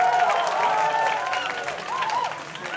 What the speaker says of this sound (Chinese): 再次给他们掌声加尖叫吧